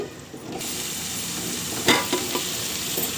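Brinjal and tomato curry frying in a pan, a steady close sizzle throughout with a few sharp scrapes and clinks as it is stirred.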